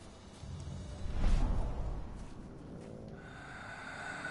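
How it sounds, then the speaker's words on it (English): A werewolf sniffing trees in Werewolf: The Apocalypse - Earthblood: a close, breathy snort-like sniff swells and fades within a couple of seconds, followed by quieter breathy ambience, with no talk over it. "we're sniffing the trees now"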